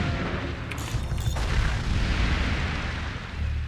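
A sniper shot strikes in the Forts tower-building battle game, a deep booming impact over a continuous low rumble of artillery-like explosions, with a sharper crack early on.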